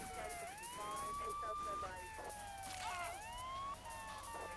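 A police siren in the video game GTA III wails continuously with rising and falling sweeps, fairly loud, over background vehicle noise and occasional talk.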